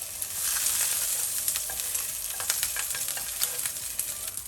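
Prawns fry in a pan over medium-high heat, a bright continuous crackling sizzle with scattered pops and light stirring, steady and close with no one speaking.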